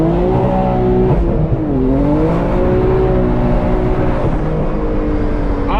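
A manual BMW M3 F80 with carbon fiber trim, drifting and doing donuts, heard from inside the cabin: its engine revs loud and close throughout, the pitch climbing, dipping sharply and surging again as the throttle works.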